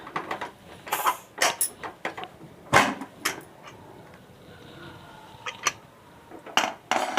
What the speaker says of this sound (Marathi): कुकर उघडून बघूया